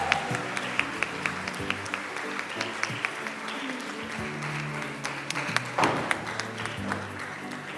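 Applause rolls on from a school audience at a Model United Nations closing ceremony, a steady dense clatter of many hands with a few sharper claps standing out, moderately loud and continuous.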